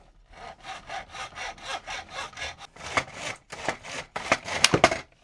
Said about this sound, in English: I recommend using a hacksaw because obviously it's got a straight taut blade